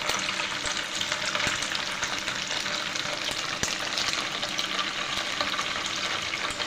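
Filled semolina chomchom sweets frying in oil in a wok over a low flame, giving a steady, close hiss and sizzle that runs unbroken throughout with no voices.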